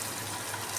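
Cabbage pakoras fry in hot oil with a steady, quiet sizzle and fine crackle, heard alone and close for under a second.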